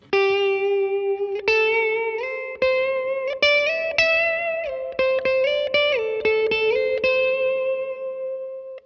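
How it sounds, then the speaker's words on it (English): Electric guitar notes played through reverb and a noise gate, each sustained note ringing with a lush tail. A series of plucked notes and chords ring out alone, and the reverb cuts off abruptly when playing stops. "it's gonna allow that reverb to continue"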